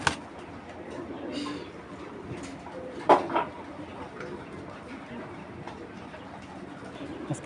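Domestic pigeons coo softly at a moderate distance amid a noisy, busy background, with a brief louder burst around the middle; faint voices may be present.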